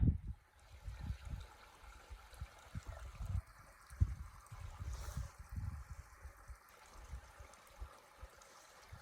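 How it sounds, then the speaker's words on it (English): A running mountain creek on a rocky trail, a steady low trickle and gurgle of water close by, with soft uneven bursts and no voices. "That's a running mountain creek."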